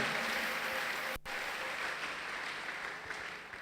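A church congregation applauding, a steady, moderately distant wash of clapping that continues throughout with a brief dip partway.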